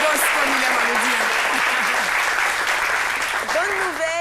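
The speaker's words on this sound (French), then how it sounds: "On doit encore applaudir." A studio audience on a midday television show applauds, a steady wash of clapping that fills the clip while a voice speaks over it.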